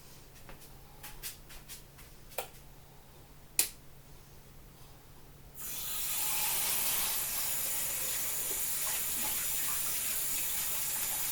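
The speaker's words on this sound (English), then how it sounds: "I'm just going to put the kettle to boil." Tap water running into a kettle in a home kitchen, following a few sharp clicks and knocks, then a loud steady gush of water filling the kettle that continues to the end.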